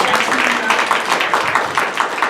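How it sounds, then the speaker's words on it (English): Audience applause for storytellers at a monthly storytelling show, a steady wash of many hands clapping together with a dense, even texture from start to finish. "Please give a warm, round of applause for all of our storytellers tonight."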